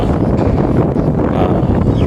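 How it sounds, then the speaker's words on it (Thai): Strong wind beside a canal buffets the microphone, a loud, rough rumble that gusts unevenly for about two seconds with no voices. "ลมแรงไหมนะครับ"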